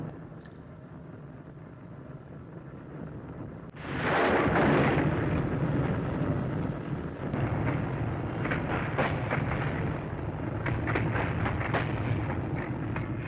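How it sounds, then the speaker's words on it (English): Massive explosion of a blimp struck by a kamikaze plane in a film, a deep roaring blast that swells suddenly and then rumbles on with crackling debris and a low sustained roar. "one mad pilot pulls a kamikaze and drives right into the blimp, causing a massive explosion"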